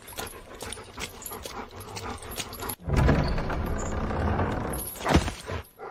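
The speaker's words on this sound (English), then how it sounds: "One filthy dog." A filthy dog pants heavily and whimpers close by, with quieter breathing at first that swells into a louder, rougher stretch of panting, then a sharp whine near the end.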